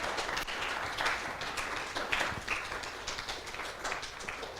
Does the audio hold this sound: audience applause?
yes